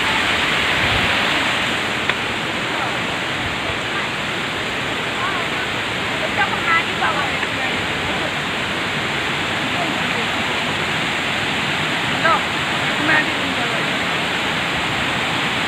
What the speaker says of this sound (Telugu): చూడండి వాటర్ ఫాల్ అక్కడ లోయ ఉంది,